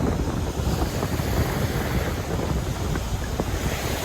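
Sea waves on a beach at Władysławowo, a continuous broad wash of surf mixed with heavy wind buffeting the microphone, steady and fairly loud with no talking.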